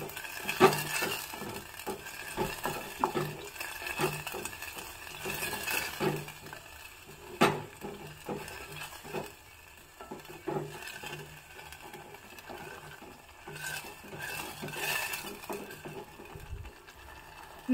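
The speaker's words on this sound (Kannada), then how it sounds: "ಒಗ್ಗರಣೆ ಹಾಕಿರೋ ಎಣ್ಣೆಯಲ್ಲೇ ಈ ಹಸಿ ವಾಸನೆ ಹೋಗೋವರೆಗೂ ಈ ಮಸಾಲೆ ಹಾಕಿರೋದನ್ನು ಹುರ್ಕೋಬೇಕು" Masala frying in tempering oil in a pan, stirred with a spoon that scrapes and clinks against the metal in an irregular rhythm over a faint sizzle, close and moderately quiet.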